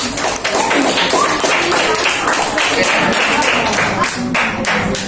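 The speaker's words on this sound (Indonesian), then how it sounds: "Tepuk tangan." A classroom of children clapping hands for their groups during a lesson, a close, busy patter of many small claps with light taps and some voices underneath.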